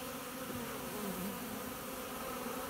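Dense, steady buzzing of many honey bees, close and constant, like a busy swarm around a hive.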